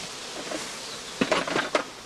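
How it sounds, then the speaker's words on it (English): Honey bees turned out of a straw skep hum in a low, steady drone throughout, with a few brief clatters near the end. "The evicted bees will beg their way into other colonies."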